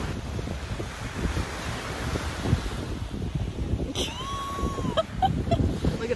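Wind buffets the microphone on a Key West beach over a low, steady rumble of surf, with a faint whistle-like tone and a few light knocks near the end.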